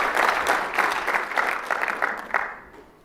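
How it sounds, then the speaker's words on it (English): A crowd applauds with a burst of clapping that tapers off and fades out within a few seconds. "Give him a round of applause."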